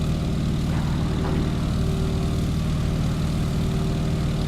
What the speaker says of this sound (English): The tail will rise on its own, and a little up elevator will have us flying at around 60 knots.